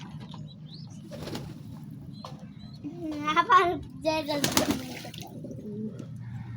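Pigeons bathing in water in a coop or yard give soft splashes and wing flaps, with a bird cooing, while someone talks over much of it.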